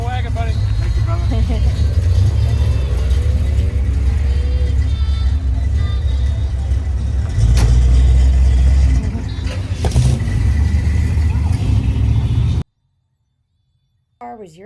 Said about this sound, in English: I love watching the cars roll out at the end of car shows.